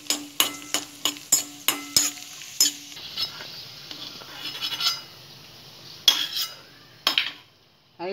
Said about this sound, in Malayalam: ആദ്യം 1 സ്പൂൺ നെയ്യ് ഒഴിച്ച് ചൂടായ ശേഷം നട്ട്സ് വറുത്തെടുക്കുക.